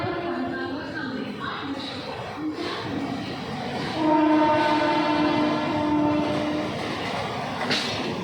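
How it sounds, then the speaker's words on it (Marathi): A Badlapur-bound general local passenger train sits at a station platform with a loud, steady rumble, and a sustained horn blares midway over the noise. "बदलापूरला जाणारी जनरल लोकल थोड्याच वेळात प्लॅटफॉर्म क्रमांक 3 वर येत आहे"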